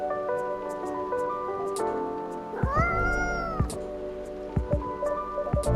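A cat in the video game Coffee Talk gives a few soft meows over gentle rain and drips with light background music, close and moderately quiet.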